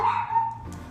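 A pet dog lets out a single short, high yipping bark nearby, clear and alone, fading quickly.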